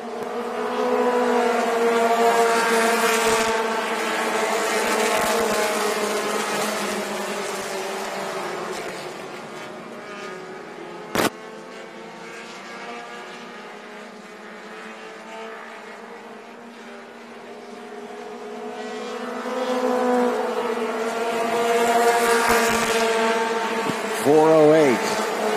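Mini stock race cars circle a track at Crisp Motorsports Park, their engines droning steadily and rising and fading as they pass, with a track announcer talking over the noise throughout.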